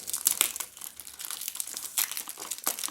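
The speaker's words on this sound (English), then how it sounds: "open it up by, of course, removing the clear plastic wrapper" Clear plastic wrapper being pulled off a Paco Rabanne 1 Million Privé perfume box, close crinkling and crackling in quick irregular bursts.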